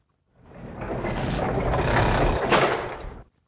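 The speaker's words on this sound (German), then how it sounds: "Und dann haben wir noch eine Gitter und ein zweites Türgeräusch, so eine Industrietür." A heavy industrial door, made as a radio-play sound effect, rolls open with a loud, deep, continuous rumbling scrape lasting about three seconds, then cuts off with a few small knocks.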